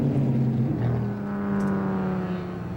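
Race cars at the 1997 Road Atlanta Speedvision Cup pull into pit lane, engines droning with steady harmonic whine and a slight pitch drop, continuous and fairly loud.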